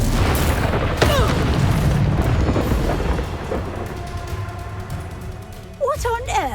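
Confringo, an explosive fire spell in the Hogwarts Legacy video game, goes off as a booming blast with crackling bursts over a continuous roar of game action, and voices are heard underneath.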